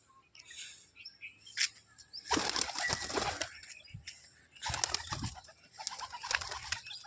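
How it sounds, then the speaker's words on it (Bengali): Roller pigeons are let out to fly outdoors, with bursts of loud wing flapping and clatter over soft cooing and chirps, the busiest flurries coming in two main clusters. "বাজি দেখাচ্ছি কিছু পায়রার।"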